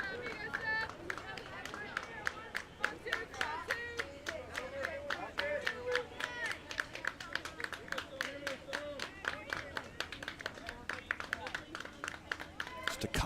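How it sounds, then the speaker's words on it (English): Rhythmic staccato clapping from a softball dugout at a high school playoff game, steady sharp claps running throughout, moderately distant, with an announcer talking over it. "Staccato clapping now from the dugout."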